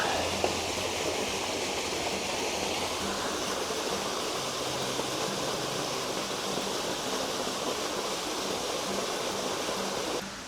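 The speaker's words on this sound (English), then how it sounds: "I do recommend you stop by the waterfall because it really is rather nice" A waterfall in Scotland rushes steadily, a constant broadband hiss of falling water at moderate distance, unbroken and without voices.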